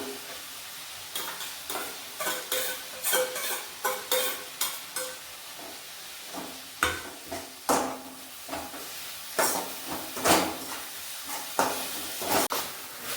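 Onion, tomato and ginger-garlic paste fry in a pan with a steady sizzle, broken by repeated scraping and stirring strokes, close and moderately loud, with no talking.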